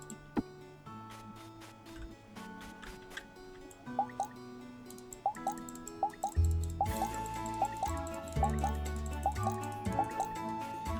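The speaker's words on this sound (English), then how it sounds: "Water some plants." Watering plants with a watering can in the farming game Moonstone Island: repeated short dripping and splashing plinks in an irregular rhythm over soft game music.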